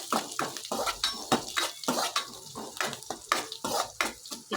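Ginger, garlic and green chilies sizzling in hot oil in a pan, with a utensil stirring and scraping through them in steady, repeated strokes, close up and with no talk.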